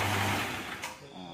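A small 3-in-1 satay skewer machine motor, which splits and shaves bamboo, runs with a steady high whir close to the microphone, changing pitch briefly partway through as it is switched.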